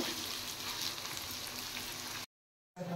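Chopped onions frying lightly in a pan make a steady, even crackling sizzle, close and moderately loud, cutting to silence briefly before resuming at the very end.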